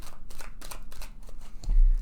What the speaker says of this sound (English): I'm going to put these cards back in and shuffle the deck